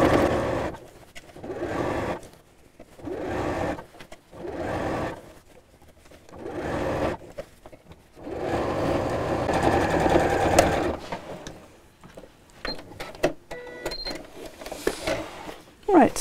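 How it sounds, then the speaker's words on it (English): A sewing machine stitches steadily around a messenger bag, pausing briefly as the fabric is turned, with someone talking over the motor throughout. "just keep turning and sewing all the way around"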